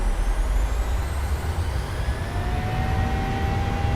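Simulated jet engines of a PMDG 737-800 in Microsoft Flight Simulator spool up to takeoff power, a loud steady roar with a rising whine climbing throughout.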